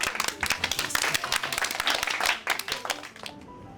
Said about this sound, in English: Everybody, round of applause.